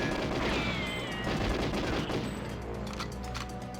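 Rapid automatic gunfire from the Nintendo 64 game GoldenEye 007, a dense continuous rattle of shots layered over game sounds, loud throughout.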